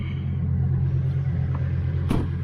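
An off-road truck stuck on a recovery site holds a steady, loud low rumble while its tyres spin without grip, and a brief sharp clack cuts through near the end.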